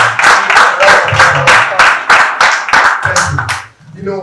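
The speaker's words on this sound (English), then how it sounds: "Please, with a standing ovation, all students, please give a round of applause" Students at a school assembly clap loudly during a standing ovation, with sharp claps in a fairly steady rhythm and a voice speaking beneath them, ending in a brief lull.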